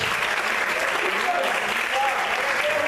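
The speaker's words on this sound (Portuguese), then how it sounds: "Você pode aplaudir ao Senhor por isso?" A church congregation applauds together during a Portuguese-language service, a dense, even roar of clapping filling the room with voices faintly mixed into it.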